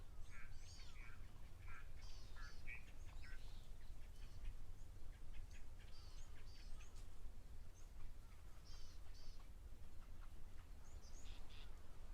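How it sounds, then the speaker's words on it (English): Egyptian geese honk and call repeatedly at a distance over a steady low outdoor rumble at a waterhole, with no one talking. "lots of Egyptian geese"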